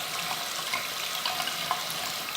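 A makeup brush is rinsed under a running tap, giving a steady, close splashing rush of water with no pauses over a couple of seconds.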